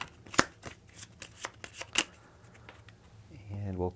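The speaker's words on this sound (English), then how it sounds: "So we'll give these a shuffle." A deck of Crimson Hand trait cards for the Shadows of Brimstone board game being shuffled, with a run of crisp riffles and snaps close by, then a brief rising voice near the end.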